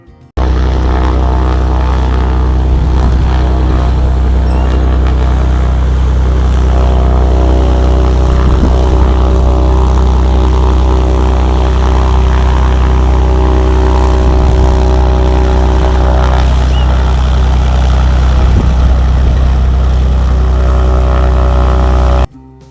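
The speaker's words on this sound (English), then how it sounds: "where planes taxi by and lift off while you sip your coffee" Propeller airplane at an air park runway beside the Hangar Café in Chandler, Arizona, a steady loud engine drone running through the whole stretch, close and continuous, with no talk.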